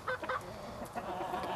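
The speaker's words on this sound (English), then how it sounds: "there's the rooster right there" A rooster pheasant inside a coop gives a couple of harsh, close calls near the start, followed by quieter rustling and low ambient noise, with no one speaking.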